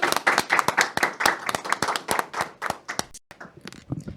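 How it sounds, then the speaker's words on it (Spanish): Applause for Padre Rafa from a small group, sharp separate claps in a quick uneven rhythm, close and fairly loud, thinning out near the end. "Despedimos al Padre Rafa con un fuerte aplauso."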